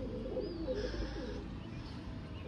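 Low, throaty cooing from a male pigeon rolls on close by for a couple of seconds, with faint background noise and no voices.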